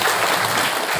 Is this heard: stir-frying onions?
no